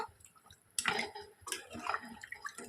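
Water poured into a pot of curry, short bursts of splashing and trickling at close range, quiet and intermittent.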